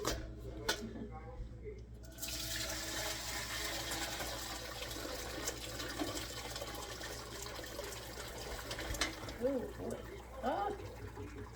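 Broth poured from a big pot through a large strainer into a pan, a quiet continuous splashing trickle of liquid with faint kitchen clatter and a person talking at times.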